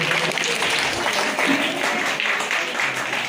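A crowd at a village development-yatra function in Gujarat, where maternity kits are handed out, breaks into loud, sustained applause, dense clapping continuing throughout with some murmuring voices mixed in.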